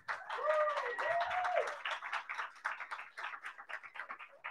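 An audience at a startup pitch night in Denver, Colorado breaks into applause: dense, steady clapping that swells early with a whistle or cheer on top, then thins into scattered, uneven claps.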